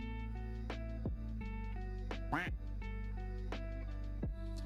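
Duck quack effects fire repeatedly over a steady humming background, several short nasal quacks spread across the stretch with one stronger warbling burst in the middle, overlapping rather than a single call.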